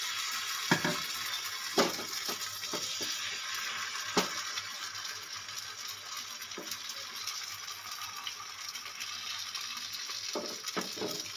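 Thin semolina paratha batter sizzles in hot oil in a frying pan, a steady close frying hiss broken by a few sharp pops and clinks.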